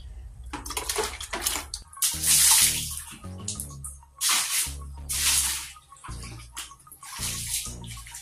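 Water sloshing and splashing in a brimming-full tub as it is scooped out, coming in uneven bursts with gurgles and short quiet gaps, close by.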